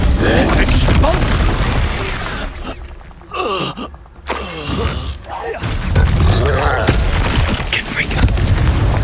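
Spell blasts and explosive booms from a Hogwarts Legacy combat encounter, loud and dense throughout, with a brief lull in the middle before the impacts and rumbling resume; a voice calls out over the action.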